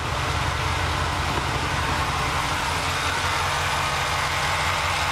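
A Dodge Dakota engine with a stalling-while-driving fault runs steadily, a dense, even mechanical drone with no change in speed and no talk over it.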